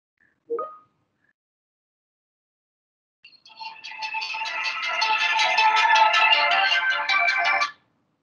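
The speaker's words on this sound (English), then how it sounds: "that was a phone call from me" A phone ringtone plays during a leadership talk session, a loud electronic melody of rapid repeated notes lasting about four seconds after a brief earlier blip, otherwise near silence.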